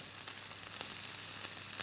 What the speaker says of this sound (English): our sizzling's changed. The sizzling, when you first do it, is a reaction between water and oil